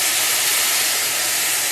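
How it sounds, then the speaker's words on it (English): Stock pours into rice toasting in a pan, producing a loud, steady hiss and sizzle that runs without a break, with no voices over it. "So I'm now gonna start slowly adding in my stock."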